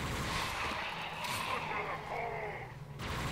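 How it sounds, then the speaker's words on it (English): Rapid automatic gunfire from a Halo-themed tactical combat game, a dense, steady stream of shots that stays loud throughout, mixed with other game sounds. "Auto fire."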